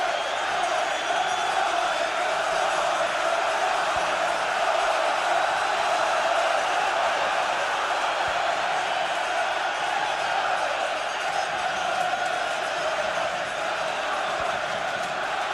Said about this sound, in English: The crowd really rousingly behind England at the moment